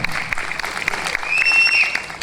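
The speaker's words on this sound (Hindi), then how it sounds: "तालियां तालियां।" Audience applause for performers at a stage show, loud and close, a dense wash of clapping that swells slightly toward the end, with a faint voice in the background.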